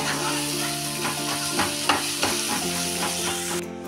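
Dried shrimp mash frying in a pan is stirred steadily, a constant close sizzle with soft rhythmic scrapes of the spatula throughout.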